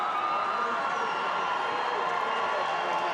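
A boxing arena crowd murmurs and roars in a dense, continuous wash of noise after a fight, steady and distant-sounding, with faint cheering mixed in.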